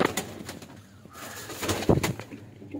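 A pigeon sitting near its egg gives soft low coos, close by, mixed with rustling and faint background noise, with no talking.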